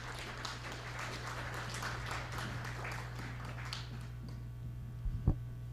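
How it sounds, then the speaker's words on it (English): Audience applause for a speaker at a climate school event for women, a steady wash of many hands clapping across the whole stretch, moderately distant, with a few sharper knocks near the end and no talk over it. "Can we have another round of applause for Dr. Flavia Maya?"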